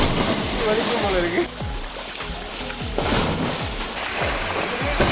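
Rushing water at a waterfall pool with splashes as people jump in, a constant loud roar broken by repeated splash bursts, with voices talking underneath.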